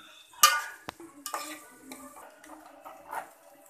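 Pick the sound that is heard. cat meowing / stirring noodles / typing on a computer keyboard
stirring noodles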